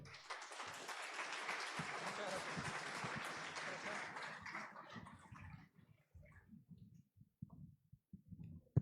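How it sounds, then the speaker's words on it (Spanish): Audience applause welcoming a speaker at a university event, dense clapping for about five seconds before thinning into scattered claps with low room noise. "Le recibimos con un fuerte aplauso."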